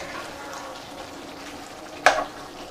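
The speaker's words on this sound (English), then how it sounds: "let me stir this garlic up in here" Garlic fries in a pan as it is stirred, with a soft, steady sizzle throughout and one sharp utensil scrape and crackle near the end.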